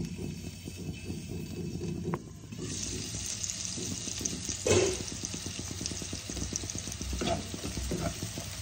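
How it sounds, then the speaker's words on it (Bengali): Onions sizzle steadily in a covered pan for boroli fish jhal. The soft crackling hiss is broken by an occasional clatter of a lid or utensil. "দেখো ঢাকা দিয়ে দিয়ে আমি ভাজবো"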